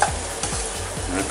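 Roasted masala is stirred into potatoes frying in a pan for achari aloo. Rhythmic scraping sweeps of a spoon repeat about every half second over a steady close sizzle, with no talking.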